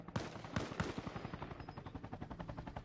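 Rapid automatic gunfire in a co-op shooter mission at a landing zone: three heavy shots open, then a fast steady stream of bursts keeps rattling at moderate volume.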